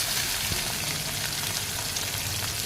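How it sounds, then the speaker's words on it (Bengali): Stingray fish pieces frying in hot oil, a steady close sizzle and crackle that runs without a break. "তো দেখো মাছগুলো এক এক করে আমি তেলের মধ্যে ছেড়ে দিচ্ছি"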